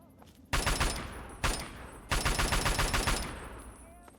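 Gunfire in the video game Fallout 3, one short burst, a single shot, then a longer rattling volley of rapid shots, loud and close, each followed by a ringing decay.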